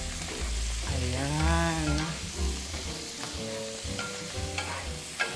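Mushrooms sauteing in a pan give a steady, moderately loud sizzle beneath background music, with a short spoken word near the start.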